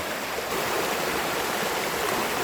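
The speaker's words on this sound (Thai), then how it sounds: "เสียงมันกับน้ำตกตลอดเวลาเลย" Steady rushing of a waterfall on a stream at a farmstay in Khon San, Chaiyaphum, a continuous broadband wash of falling water close by with no voices.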